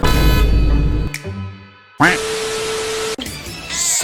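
A newly replaced car horn honks in loud blasts, separated by a short quiet gap, close by.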